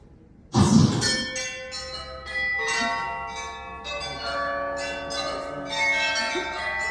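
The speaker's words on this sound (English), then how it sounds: "I want you to make the bell ring just once." A bell hung above a door at Universal Studios Orlando rings out with a bright metallic strike, then a long shimmering ring with further chimes that carries on near and clear.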